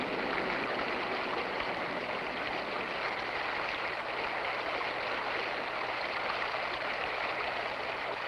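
A stream of flowing water carrying rock debris toward the ocean, rushing and gurgling steadily without a break, close and full-bodied throughout.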